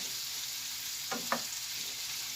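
Beef and broccoli simmering in a pan give a steady, soft frying sizzle throughout, with two brief stirring scrapes partway through.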